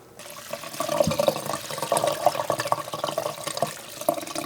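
Running tap water splashing steadily in a sink while wild cranberries are rinsed clean, with small bursts and clinks as the berries are stirred under the stream.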